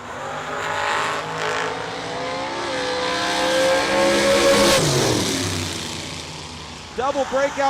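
Drag racing cars at a Triple 12's event roar at full throttle down the strip, engines rising to a sustained high howl and fading, with a track announcer speaking over the noise.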